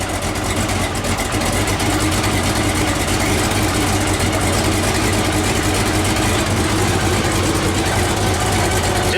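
A supercharged 454 V8 in a Javelin idling on a cold 20-degree day, a loud, steady low rumble with no break, close up.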